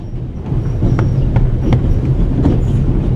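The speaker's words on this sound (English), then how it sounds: "The noise on this train is driving me crazy." Aboard the Orient Express in The Raven Remastered, a train rumbles loudly and steadily, with rhythmic clicking of wheels over rail joints and a low rolling drone throughout.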